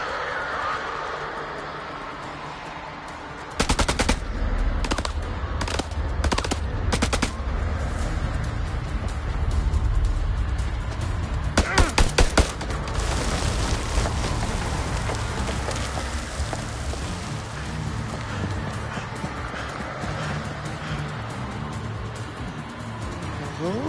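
Gunfire in the horror video game House of Ashes: a series of sharp shots in quick clusters, then another tight burst, over a constant rumbling in-game ambience.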